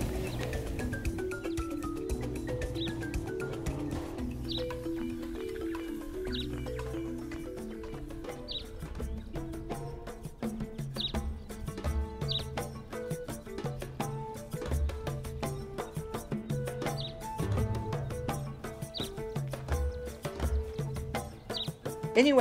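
Faint, distant bird calls ring out at intervals across open farm fields during a game bird hunt, thin repeated notes over a quiet outdoor background with a low rumble.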